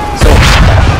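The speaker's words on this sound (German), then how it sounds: "Jetzt muss ich wegen diesen dreien da die Kanone abfeuern." A cannon fires in Assassin's Creed 3, a sudden loud boom that hits and rolls on as a broad rumble, with some game noise around it.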